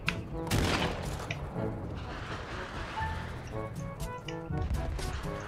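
Sniper rifle fire in the game Jurassic Monster World, a burst of sharp shots and crashing impacts over a dense, busy game soundscape, loud and continuous without clear talk.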